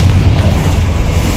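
The Confringo spell from Hogwarts Legacy goes off as a loud, dense, rumbling blast, booming in the game's combat without any gap.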